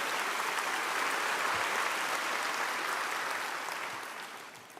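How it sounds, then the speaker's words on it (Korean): A church congregation gives sustained, dense applause to God during a worship service, a steady wash of clapping from many hands that fades out toward the end. "우리 하나님께 큰 박수 올려드립니다"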